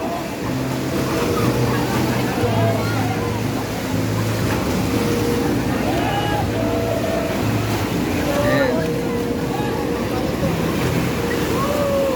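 A boat motor drones steadily under the wash of waves, with occasional voices talking over the engine noise.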